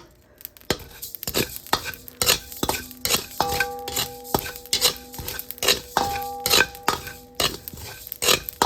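Spices dry-roasting in a pan for sambar powder, with repeated metallic scrapes and clinks of a spatula stirring and tossing in a steady rhythm close by, and no talk.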